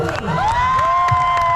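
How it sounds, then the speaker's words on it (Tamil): A crowd at a stage event with a music band cheers for an arriving guest, with close whoops and whistle-like rising cries over a busy wash of voices in a short burst. "நீங்க அவருக்கு ஒரு கரகோஷம் கொடுத்தே ஆகணும்."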